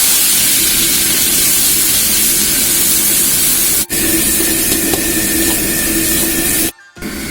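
Pork belly slices frying in hot oil in a wok, a loud continuous hiss and sizzle with brief breaks, no talking.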